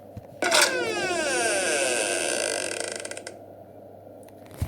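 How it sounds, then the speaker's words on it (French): A door shuts with a rising, grinding mechanical rattle in Poppy Playtime Chapter 2, a loud ratcheting whir that sweeps upward for about three seconds before cutting off, leaving a low hum. "La porte s'est fermée et le bruit a continué."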